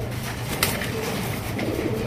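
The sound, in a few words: pigeons cooing, fantail and Lahori breeds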